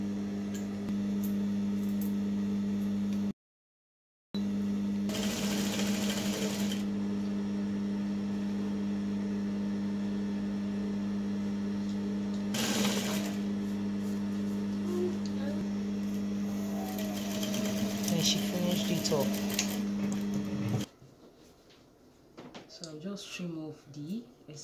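A sewing machine stitching down the hem of a full circle dress with flounce gives a steady, droning motor hum that runs on for about twenty seconds, with one brief break, before stopping near the end.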